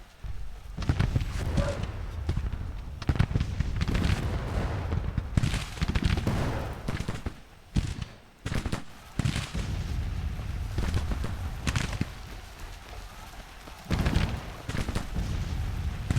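Cannon and rifle fire from an artillery battery on a Civil War battlefield in a strategy game, a dense stream of overlapping booms and crackling volleys rolling on continuously with brief lulls.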